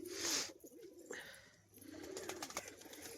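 Fancy crested pigeons kept for sale coo softly in a few low, rounded calls, with faint fluttering and movement around them and no speech.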